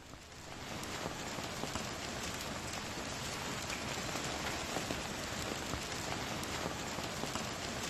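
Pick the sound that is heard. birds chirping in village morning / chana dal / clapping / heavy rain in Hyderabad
heavy rain in Hyderabad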